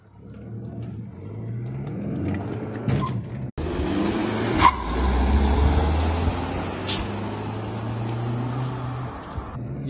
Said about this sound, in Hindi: ये देखो कैसे टायर स्पिन मारते हैं